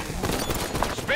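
Rapid gunfire in the Halo 5 campaign crackles in a dense, continuous burst, with radio chatter from voices running over it.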